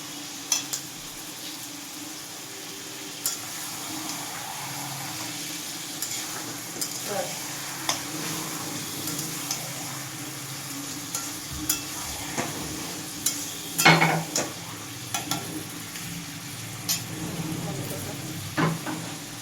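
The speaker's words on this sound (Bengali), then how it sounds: "এই যে মাটনটা দেওয়া হলো, তো মাটনটা দেওয়ার পর জল বেরোবে, তো জলটা বেরোক ততক্ষণ একটু নাড়িয়ে দিই" Mutton pieces sizzling and frying in a hot pan on a home kitchen stove, stirred with a spoon in scraping strokes, steady frying hiss beneath occasional sharper clinks of metal against the pan, with faint background voices now and then.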